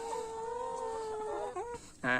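Hens clucking on a laying-hen farm, a few warbling calls close by with a louder burst of clucks near the end, no talking.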